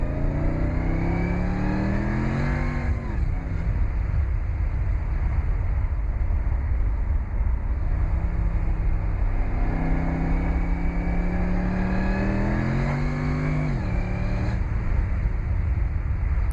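Supercharged engine of a Mercedes-McLaren SLR on a public road, droning loudly and steadily with two rising-and-falling revving sweeps as it pulls through gears, heard from close by with no talk.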